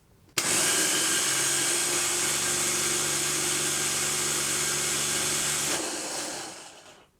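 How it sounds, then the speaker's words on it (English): A food processor running off a Bluetti EB70 battery inverter starts suddenly and whirs steadily at a loud, even pitch for several seconds before winding down and fading out. "Starting with the food processor, let's go ahead and plug it in the wall, see how it sounds first."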